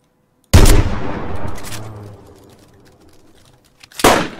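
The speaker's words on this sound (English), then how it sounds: "I shot like 20 bullets" Gunfire in DayZ on the Namalsk map: one loud, sharp shot rings out and trails off in a long echoing decay, then a second crack follows near the end.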